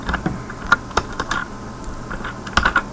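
Fingers type C code on a computer keyboard in a close run of sharp, uneven keystrokes, clustered taps with short pauses between, and no voice over them.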